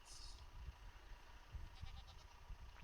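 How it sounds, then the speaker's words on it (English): Goats in Minecraft bleat faintly a few times over a quiet game background, with no talking. "Goats. I found goats."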